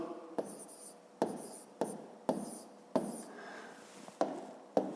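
Chalk or marker writing numbers on a board while working a long division problem, heard as a series of short scratchy strokes at an irregular pace, close and clear, with no talking.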